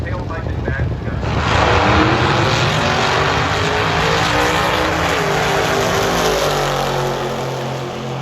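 A vintage drag car's open-exhaust engine rumbles loudly, steadily and close by at a drag racing event, a deep throaty exhaust roar that swells after a second and holds, easing slightly near the end.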